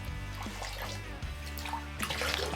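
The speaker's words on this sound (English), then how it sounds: "I'm just gonna dip it down in here into some water." A badger shaving brush is dipped and swished in a small basin of water, producing soft, close sloshing and dripping sounds over a low, humming background.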